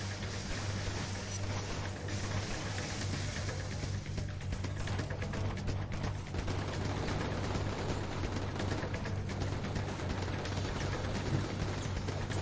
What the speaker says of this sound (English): It's not nice to shoot at civilians.